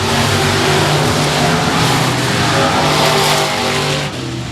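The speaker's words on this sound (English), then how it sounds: "green flag, we go racing once again in the limited late models." Limited late model race cars roar around a speedway oval after a green flag, a loud, dense, continuous engine drone from several cars at once with no pause.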